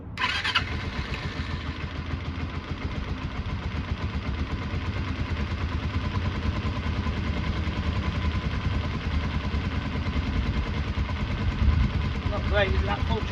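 A Kawasaki Eliminator EL 250 motorcycle under restoration idles steadily and close by, its low engine note running continuously throughout, with brief rattles near the start and end.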